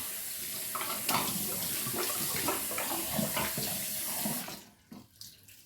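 Hot water runs steadily from a tap into a bathroom sink, a close, continuous splashing rush that cuts off near the end, leaving a few faint drips and handling sounds.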